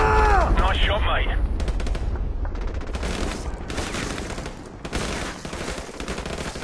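Rapid automatic gunfire and shot bursts in the video game Modern Warfare Remastered, loud and dense throughout, with voices breaking in under the shooting and a short lull before firing resumes.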